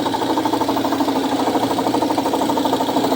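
Air compressors at a painting site for epoxy enamel paint run with a loud, steady mechanical drone and a fast rhythmic pulsing chug, continuous and close with no talking.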